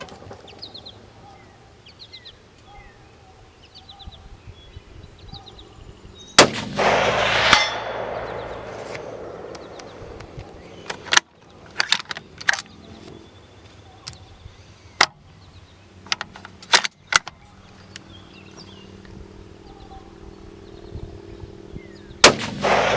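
Sharp, loud rifle shots from a Ruger Precision and an XCR at a long-range outdoor shooting session crack out singly and in quick clusters, with echoing reports and quieter handling noises between them.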